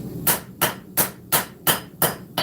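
Light, regular hammer taps ring out on hot knife steel during forging to clean up the blade, seven crisp metallic hits at an even pace, close up and alone without speech.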